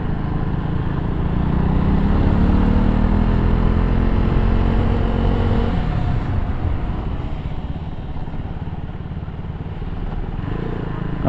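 Heavy road traffic crawling along a narrow road in Dehradun, a close, steady drone of motorcycle and car engines idling and revving together, loud and continuous with no one talking.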